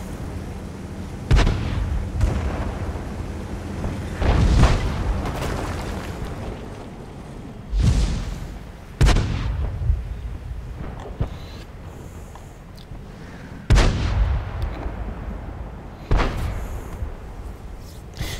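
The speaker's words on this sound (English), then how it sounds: "you can actually give it a high explosive mortar, which leads to a lot of splash damage being done" A KV-2 tank in World of Tanks fires high-explosive shells: about six heavy, booming cannon blasts spaced several seconds apart, each followed by a rumbling tail over a battlefield backdrop.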